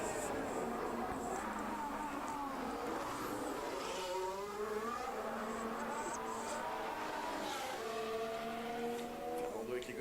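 Formula 1 cars lapping during a Las Vegas Grand Prix practice session, engine notes rising and falling as cars pass and accelerate, continuous over a French commentator's voice.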